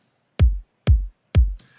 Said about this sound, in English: all 3 kicks together sound like this